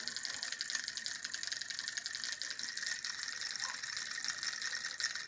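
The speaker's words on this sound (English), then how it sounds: "But that's my cranky lid motor." A homemade cranky lid motor turns a crankshaft on a lid, with a solenoid triggered by a reed switch, giving a steady ratcheting, clicking mechanical whir that runs evenly and close by throughout.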